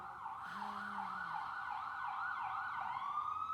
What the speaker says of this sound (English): we hear the siren.